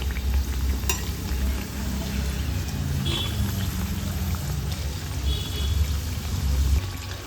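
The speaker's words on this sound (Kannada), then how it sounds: "ಎಣ್ಣೆ ಬಿಸಿಯಾಗಿದೆ, ಫ್ರೈ ಮಾಡ್ಕೊಳ್ಳೋಣ" Rava (semolina) snack frying in hot oil, a loud, steady, close-up sizzle that crackles continuously without pause.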